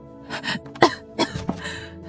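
A woman coughs in short bursts, three or four rough hacks spaced across about two seconds, close and moderately loud, with no clear words.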